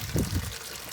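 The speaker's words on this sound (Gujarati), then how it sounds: "પાણી તો આમ તો જો કે ભરેલું જ છે પણ ફૂલ ભરી નાખીએ આપણે." A brief splash of water is poured to top up a cattle water trough on a farm, a short close gush that fades within a second.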